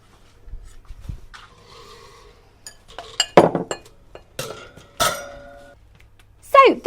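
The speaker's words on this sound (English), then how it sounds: "So these are going to go onto our cooling rack now." Cupcakes are lifted from a baking tin onto a cooling rack: sparse light clinks and taps of metal, with a few sharper knocks and brief rustles, close and quiet with pauses between.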